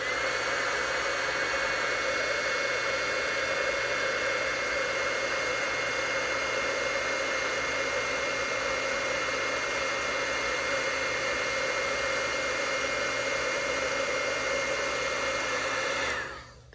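A handheld heat tool blows a steady, loud whirring rush of hot air over embossing powder on a wedding card, running unbroken before cutting off abruptly at the end.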